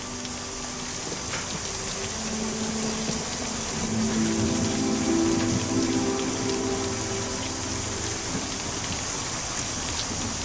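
Heavy, steady rain pours down throughout, a dense hiss of drops hitting surfaces, with faint low tones running beneath it.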